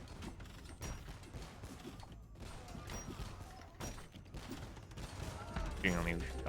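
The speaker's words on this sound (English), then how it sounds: "Now this tower is going to start shooting. Look at all those cannonballs." Bombard towers in a strategy game fire cannonballs in a series of booming thuds and mechanical clanks. The shots build in loudness toward the end, and a voice talks faintly underneath.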